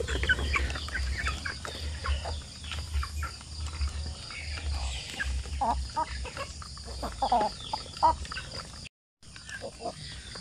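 Zampen native chickens clucking and calling on a farm in the morning, with scattered, uneven bursts over a constant low background hum and insect-like chirps, heard fairly close.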